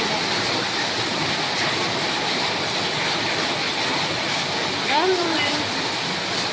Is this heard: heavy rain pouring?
yes